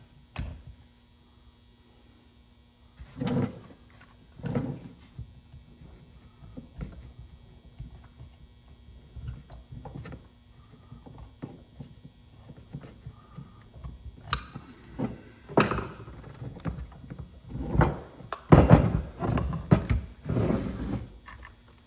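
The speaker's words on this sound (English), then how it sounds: "You go ahead and pry out the anti-vibe bushings" Prying rubber anti-vibration bushings out of a Stihl 066 chainsaw during a rebuild: a quiet stretch, then scattered scraping clicks and knocks, growing denser and louder near the end, over a steady low mains hum.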